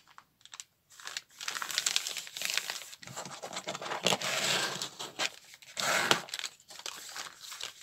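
A sheet of paper is folded in half for a junk journal. Close crinkling and soft rustling sweeps fade in and out, with brief pauses, and no voice is heard.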